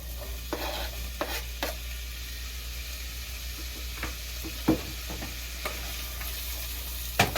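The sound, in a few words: onions frying in olive oil, stirred with a wooden spoon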